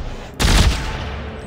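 Sudden burst of rapid automatic gunfire in the sci-fi survival horror game Dead Space 3, a loud clattering volley that cuts in abruptly and rings out briefly.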